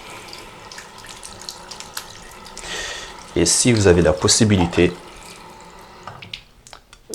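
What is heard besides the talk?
water running from a tap while washing hands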